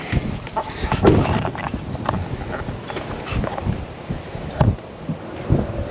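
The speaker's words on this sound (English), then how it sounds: "sorry about the wind." Rough, rumbling wind buffeting the microphone continuously, with gusty bursts and crackly thumps throughout.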